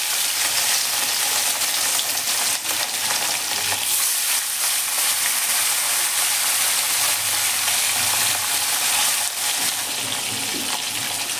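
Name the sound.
rohu fish pieces frying in smoking hot oil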